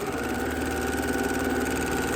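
A sewing machine runs steadily while top stitching a fabric cord wrap, a close continuous mechanical hum with a fast even stitching rhythm and no voices.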